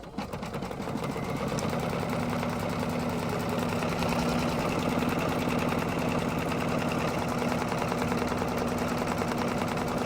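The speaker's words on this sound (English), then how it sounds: "the next thing the machine is going to do is a tack down stitch to hold the vinyl in" An embroidery machine sews a tack-down stitch on vinyl, a fast, even rattling whir after a brief start, running steady and close with no pauses.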